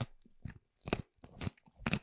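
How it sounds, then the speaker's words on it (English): A man bites into a raw carrot and chews it, making crisp crunches in about five close, loud bursts separated by short gaps. "I'm watching a man eat a carrot"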